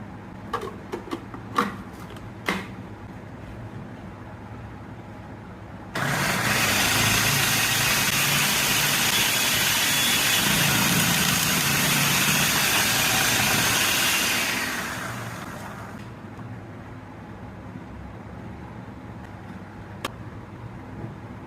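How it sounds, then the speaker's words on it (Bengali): A food processor slicing vegetables into round slices runs as a steady, loud motor whir for about nine seconds, starting abruptly and fading out, with a few faint knocks before and after. "এখন আমি সবজিটা এই সাইজটা দিয়ে কাটবো"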